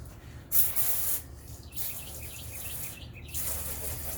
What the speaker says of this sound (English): Let's spray that on.